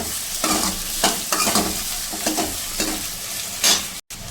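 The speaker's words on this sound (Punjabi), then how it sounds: "ਚੰਗੀ ਤਰ੍ਹਾਂ ਤੇਲ ਦੇ ਵਿੱਚ ਫਰਾਈ ਕਰਾਂਗੇ ਪਿਆਜ਼ਾਂ" Onions frying in hot oil for a potato and soybean curry, stirred with a spoon that scrapes the pan in repeated strokes over a steady, close sizzle, with no talking.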